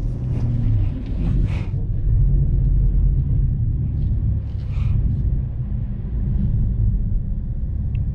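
Steady low engine rumble and road roar from inside a rear-wheel-drive BMW G20 M340i driving through a blizzard, continuous and fairly loud throughout, with brief faint higher rattles or snow hiss on top.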